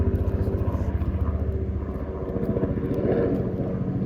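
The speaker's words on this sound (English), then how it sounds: "And again, I apologize about the helicopter" Helicopter flying overhead near a hospital, producing a steady, fairly loud, rhythmic rotor thumping that holds through the whole stretch with no talk over it.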